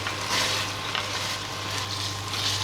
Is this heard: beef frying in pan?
yes